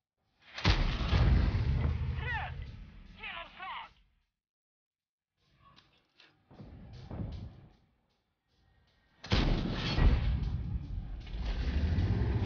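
Tank cannon shots in the video game World of Tanks, heavy booming bursts at the start and again near the end with a quieter gap between, under a player's talk.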